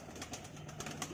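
A tumbler pigeon coos softly in a few faint, rhythmic low calls, close and quiet over a brief stretch.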